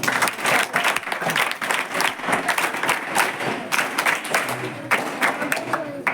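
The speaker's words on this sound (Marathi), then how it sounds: "आम्ही सर्व आपलं टाळ्या वाजून स्वागत करतो" A school audience welcomes a guest with sustained applause at a government residential school health check-up event, dense and loud clapping from many hands that rises and dips throughout, with voices mixed in.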